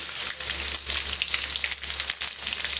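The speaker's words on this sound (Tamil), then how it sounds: "பாருங்கள் கடுகு நல்லா பொறிஞ்சு வருது" Mustard seeds spluttering in hot oil for a tomato pickle: a loud, dense, continuous crackle of rapid pops, close by and steady.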